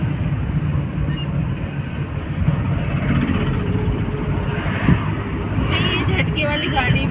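A car on a mountain road in Jammu and Kashmir, a steady engine drone and road rumble that jerks when the vehicle is in too high a gear at low speed, with people talking over it throughout.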